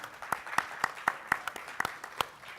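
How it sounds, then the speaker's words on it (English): Scattered claps from a small audience at a small-business talk, about ten sharp, separate hand claps at an uneven pace, fairly quiet and sparse rather than a full ovation. "give yourselves a round of applause again."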